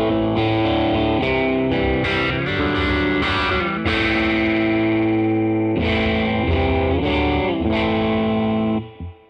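Telecaster through an MXR Phase 90 with drive and the guitar tone rolled down, loud distorted chords with a swirling phased sweep, played continuously and close, ending with a ringing decay.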